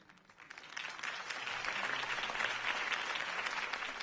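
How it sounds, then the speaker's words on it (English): Crowd applause after a political campaign speech in the Batman Telltale video game, swelling from quiet to a steady, dense clapping that carries on evenly, heard alone without talk. "If only Mr. Wayne, my campaign's largest backer, could have heard that applause"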